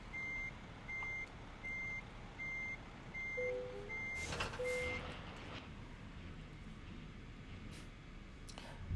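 Reversing truck in American Truck Simulator backing up to hook a trailer: a steady run of six evenly spaced backup beeps over low engine rumble, then a sharp air-brake hiss and a couple of clunks before the beeping stops.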